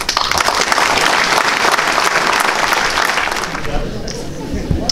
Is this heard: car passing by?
no